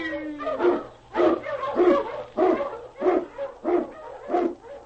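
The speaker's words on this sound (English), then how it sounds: "On King! On you husky!" Husky sled dogs bark and yelp in a rapid rhythmic series of about eight close, loud bursts, a radio drama effect set on the snowy Yukon trail behind a lead dog.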